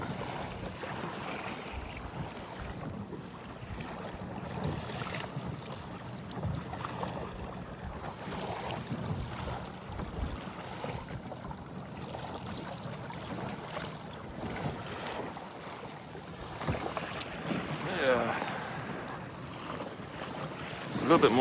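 A kayak fitted with a trolling motor moves through sea waves in Christchurch Bay, steady wind buffeting and water sloshing around the hull for a long stretch.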